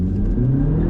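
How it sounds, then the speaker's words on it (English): A new turbocharged MINI engine revs hard under full-throttle acceleration in sport mode. The drone is loud, close and continuous, with no other sounds over it. "Bit of tyre squeal, both gears."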